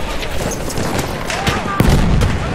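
A single heavy cannon blast booms in the Battlefield 1 video game, rising sharply out of a busy bed of crackling battlefield gunfire and rumble. Faint voice-like sounds may sit in the mix.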